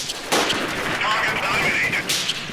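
Gunfire from the guerrilla warfare video game Freeman: Guerrilla Warfare, sharp loud shots at the start and near the end with busy battle noise between.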